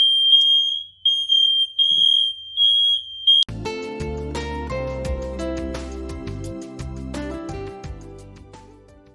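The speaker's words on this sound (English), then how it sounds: "know where your smoke detectors are, because when you set them off and you're not intending to" A household smoke detector set off by burning sacred smoke, sounding a piercing high-pitched beep in a rapid on-off pattern. Loud instrumental music then starts and takes over while the alarm falls silent.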